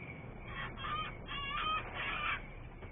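A pet chicken clucks softly in several short rhythmic bursts, fairly faint against a steady low background hum.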